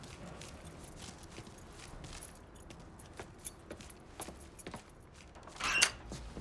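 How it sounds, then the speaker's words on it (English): Keys jangle as a truck's keys are picked up in the video game Mafia III, a brief metallic clink and rattle near the end over quiet ambient background with a few soft knocks. "Lincoln, pick up the keys."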